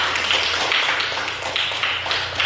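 A classroom of students claps together at the teacher's prompt, a brisk, uneven patter of hands at close range that carries on steadily, with no talking over it.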